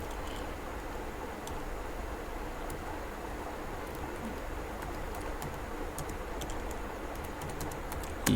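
Someone types code on a computer keyboard in a fast, continuous patter of light key clicks over a steady background hiss.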